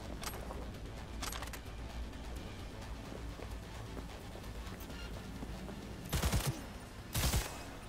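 Gunfire in Cyberpunk 2077: two short, loud bursts of shots break through a steady rumbling background near the end.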